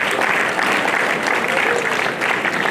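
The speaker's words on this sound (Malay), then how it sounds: "beri tepukan bergurau kepada Tuan Setiausaha" An audience at a public-service briefing session claps steadily in a short, dense burst of applause, moderately loud and close.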